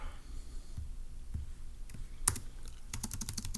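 Keys are typed on a computer keyboard for a Turing Machine puzzle entry, heard as sparse, faint clicks at first, then one sharp louder tap and a quick run of close keystrokes near the end, with no voice.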